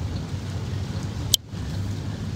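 Heavy rain pours steadily in Rosario, a loud, constant low rumble and wash that is broken once by a brief sharp click partway through, with no talking.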